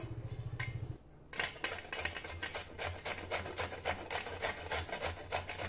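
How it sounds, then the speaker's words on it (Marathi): A peeled raw green mango is grated on a kitchen grater, giving rapid, rhythmic close rasping strokes that continue steadily after a brief pause near the start. "आता ही कैरी आपण किसून घेऊ।"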